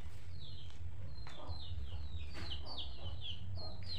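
Chickens cluck in quick, short bursts against a low background rumble, fairly close and moderately loud, continuing throughout.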